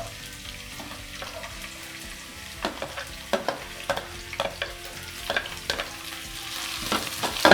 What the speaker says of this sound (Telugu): వేగిన తర్వాత ఆనియన్ వేస్తున్నాను.